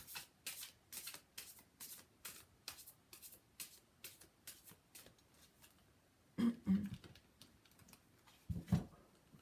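Tarot cards are shuffled on a table in a quick, steady run of soft riffling flicks, close and fairly quiet, followed by a few louder taps and slaps as cards are drawn and set down.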